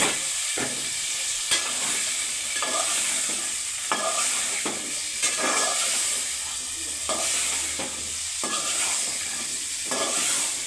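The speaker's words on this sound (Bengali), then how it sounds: "মশলা কষায় নিছে ভালো মতো এখন সবজিটা দিয়ে দেবেন" Vegetables go into spices fried in a pan for a rohu fish head dish and are stirred, a steady sizzling hiss broken by repeated scraping strokes of a spatula at a regular rhythm, with no talk.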